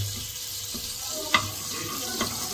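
Butter melting and sizzling in a kadai while a chicken pizza is made, giving a steady soft hiss with a couple of brief clicks, close by and moderately quiet.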